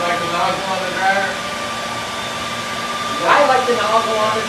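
A hair dryer fitted with a nozzle blows with a steady whirring hum throughout, and a voice talks faintly over it now and then.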